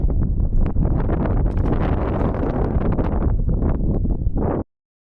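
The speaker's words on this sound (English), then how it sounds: "the wind started blowing like crazy" Strong wind blasting across a lake hits the microphone in loud, continuous roaring gusts with rustling texture, cutting off abruptly after about four and a half seconds, no speech heard.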